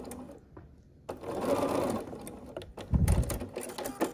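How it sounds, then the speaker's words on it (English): A sewing machine stitches across a row of chain-block quilt pieces in short bursts, with a steady mechanical whir near the mic. Quieter handling of fabric comes between the runs. "So I just get it lined up, take a minute to fix it all, and then sew across."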